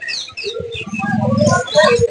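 Birds, including macaws and cockatoos, chirp and coo close by at the large, busy Mirpur bird market in Dhaka, Bangladesh, with brief bursts of calls over one another.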